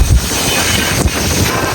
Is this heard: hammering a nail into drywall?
no